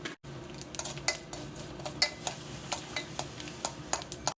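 A spoon stirs a radish chutney tempering in a pan, turmeric added, making light scraping clinks and taps in an irregular rhythm, quiet and close with a soft background hum.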